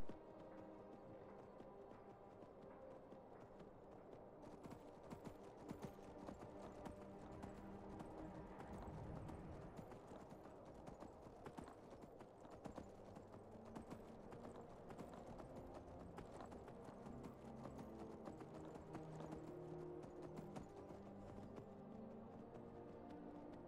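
Horse hooves clip-clop steadily in the video game Skyrim, a continuous trotting rhythm with a faint whinny and game ambience, the beat persisting under background music.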